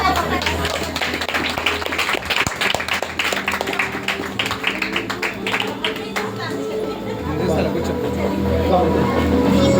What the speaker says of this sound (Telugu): Claps claps.